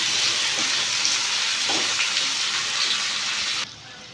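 Spice paste sizzles in a pan of fried onions as masala for a coconut prawn malai curry, a steady close crackling hiss that runs continuously and drops abruptly near the end.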